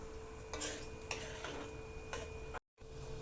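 Raisins being stirred as they fry in ghee for moong dal halwa, a few scraping spoon strokes against the pan over a soft steady sizzle, with a brief dropout near the end.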